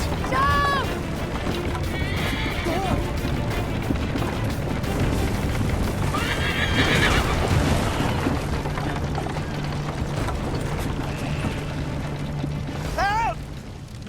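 Horse neighs in the Assassin's Creed 3 Liberation game, with whinnies near the start, middle and end over a constant rumble of galloping hooves and game noise, shouted voices mixed in.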